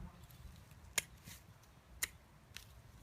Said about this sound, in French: Bien couper toutes les branches.